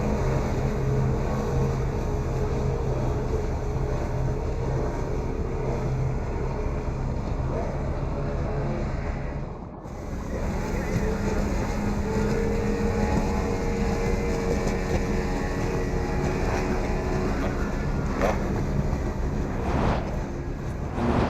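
Racing boats named Timeless and Hero run at a TTPBA regatta, a loud sustained engine roar with wind and water noise that briefly dips midway and then surges again.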